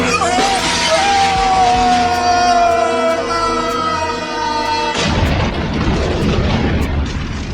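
Cartoon gunfire from The Simpsons as baby Maggie shoots, loud booming blasts over a sustained musical score that shifts into a noisier rumble partway through.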